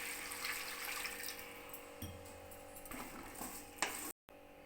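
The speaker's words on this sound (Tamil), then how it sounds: "முருங்கைக்காய் வேகிற அளவுக்கு தண்ணி ஊற்றிக்கலாம்." Water poured into a pot of drumsticks with salt for rasam: a steady, hissing splash and trickle over the cooking, rising briefly near the end before it stops abruptly.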